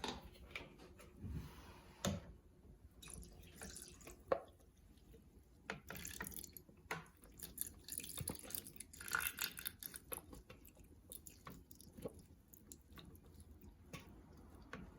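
Buttermilk from homemade piima cream butter pours through a mesh strainer into a bowl, a soft, continuous liquid trickle with scattered drips and small clinks, fairly quiet and close, with no talking.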